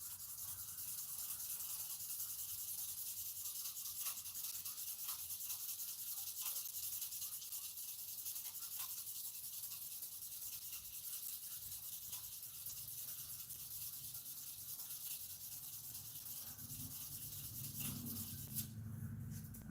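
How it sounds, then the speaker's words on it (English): Acrylic being sanded with sandpaper on a lathe, a continuous close, hissing rub that holds steady throughout, with a low rumble entering near the end and no speech. "the acrylic like really eats your sandpaper fast"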